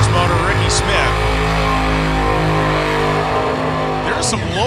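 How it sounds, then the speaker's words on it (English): A big nitrous-fed drag racing engine at a quad elimination, a loud continuous roar with shifting harmonic tones building through the launch, over an announcer's talk and steady crowd-level noise. "here comes a big nitrous motor, Rickie Smith."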